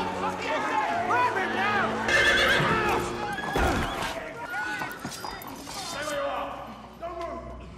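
A horse in a film whinnies repeatedly, loud and close, with hoof clip-clops as it runs off, chased by the king's guards, amid busy background noise.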